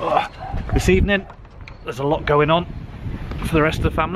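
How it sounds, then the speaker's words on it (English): A dog barks a few times in short bursts, not far off, over a person talking throughout, with some wind noise in the background. "You can hear the dog barking."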